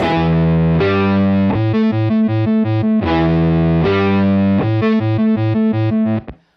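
A distorted guitar through a Beetronics Zzombee Filtremulator pedal in cross tremolo mode sustains chords that pulse into a fast, choppy tremolo, alternating between low and high octave layers, low first, repeated twice and ending abruptly.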